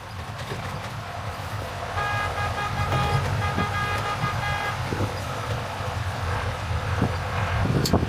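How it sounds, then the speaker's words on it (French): Giant truck rumbles nearby amid road traffic noise, with a few short horn toots sounding over the steady engine drone across roughly eight seconds. "Le camion géant."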